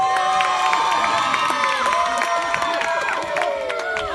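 A crowd cheers and acclaims loudly and continuously, with whoops, shouts and raised voices layered together for several seconds.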